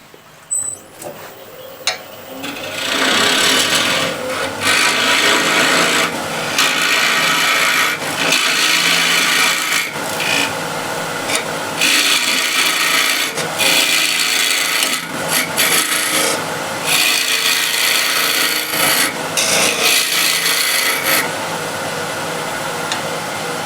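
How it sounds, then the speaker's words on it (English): Square end scraper working wood on a beginner's woodworking project, making repeated rasping, scratchy strokes in uneven bursts, close and fairly loud, after a quieter start. "now using just the very tip of the square end scraper, going straight in"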